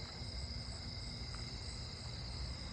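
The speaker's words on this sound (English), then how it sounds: "I hear a Japanese burrowing cricket." A Japanese burrowing cricket chirps in a neighbourhood at night, a faint, steady, continuous trill that blends with other insect song over a quiet background hum.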